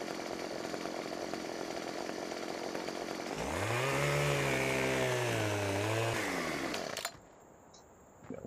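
A chainsaw in Farming Simulator 2017 trims a tree branch: the engine revs up loudly and whines steadily for about three seconds, then cuts off abruptly, leaving a quieter game backdrop.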